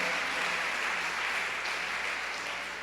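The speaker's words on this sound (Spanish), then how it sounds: "Démosle fuerte ese aplauso a nuestro Dios." Faint, steady applause from a church congregation giving praise to God, a continuous wash of clapping heard at a distance without speech over it.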